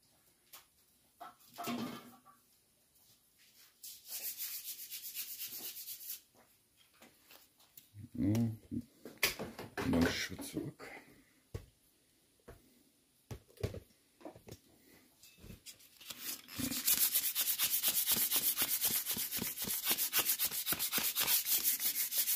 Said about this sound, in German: 600er Papier, würde ich sagen.